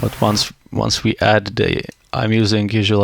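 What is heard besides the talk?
No everyday noise stands out behind the speech.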